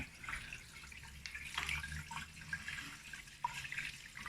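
Water trickles and drips faintly in the hole of a waste pipe, heard as a low, uneven splashing with a few small sharper drops.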